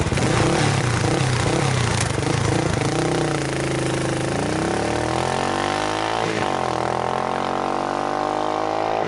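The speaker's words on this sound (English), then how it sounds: "that lovely chug of the KLR 650 single" A Kawasaki KLR 650 single-cylinder motorcycle engine chugs steadily up close, its deep uneven thumping shifting pitch slightly as the revs rise and fall.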